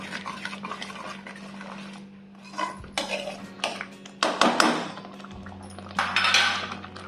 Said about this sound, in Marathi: छान मिक्स करून घ्या